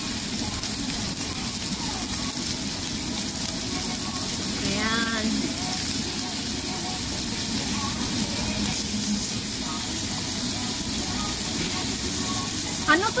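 Food sizzles with a steady loud hiss on a hot stone grill in a busy Korean restaurant in Mongkok. The noise runs continuously, with faint background voices and clinks now and then.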